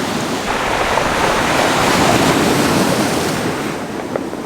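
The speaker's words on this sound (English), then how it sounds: "Got to keep an eye on the waves." Ocean waves break and wash onto the shore in a continuous, loud roar, with wind buffeting the microphone and spray-laden surf swelling steadily throughout.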